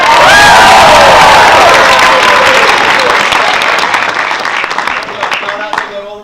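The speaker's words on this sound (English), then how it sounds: "Give a round of applause!" Loud audience applause mixed with cheering and shouts at the NYDS Chopstix 2015 event, a dense burst of clapping and voices close up that gradually thins out over six seconds.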